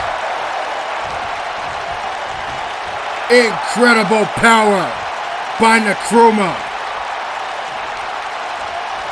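Steady crowd roar from a WWE 2K19 wrestling match fills the arena throughout, a constant broad wash of cheering beneath a commentator's voice that speaks over it in short bursts.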